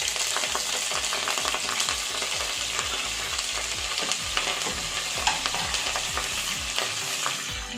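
Curry leaves and fenugreek fry in hot oil for a Mangalore-style chicken liver and gizzard sukka, a dense continuous sizzle with rapid crackling pops close by.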